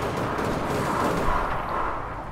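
Gunfire from APB Reloaded plays as a dense, loud, continuous blast of noise, booming and rumbling throughout with no clear separate shots.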